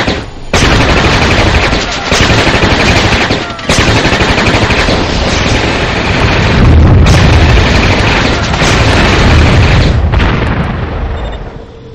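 Laser satellite strike in the strategy game Warzone 2100, a loud, sustained roaring blast of booms and crackling explosions that runs nearly the whole time with a few brief dips.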